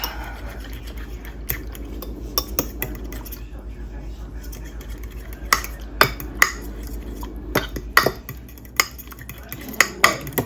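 Pancake bake batter being stirred in a bowl produces soft scraping with sharp clinks of a utensil against the bowl, growing more frequent toward the end over a faint background hum.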